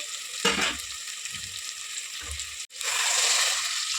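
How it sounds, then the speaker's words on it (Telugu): Water is poured into a sizzling pan of fried tomatoes for vegetable bagara rice; steady frying hiss with a few soft stirring bumps, then a brief drop and a louder, rushing hiss as the water hits the hot pan. "ఇప్పుడు వాటర్ పోసేసుకున్నామండి"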